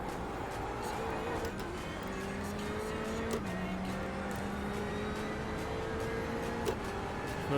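Race car engines at Le Mans, Circuit de la Sarthe: a steady high engine drone with gear shifts and a Ferrari closing in behind, continuous and fairly close throughout.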